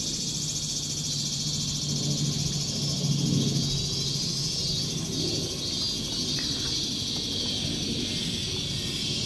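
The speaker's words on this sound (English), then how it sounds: "Anyway, Japanese cicadas for the record." Loud Japanese cicadas buzzing in a dense, continuous high drone that stays steady from start to finish, with no one talking.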